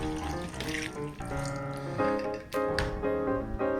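White eggplant being rinsed under cold tap water in a kitchen sink, a steady close splashing stream with shifting tones as the water hits the vegetable, and no voices.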